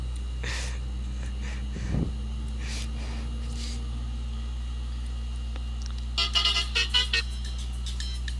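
A TNSTC bus in Euro Truck Simulator 2 idles with a low engine drone, then near the end its horn blares in a quick series of four or five short, loud honks.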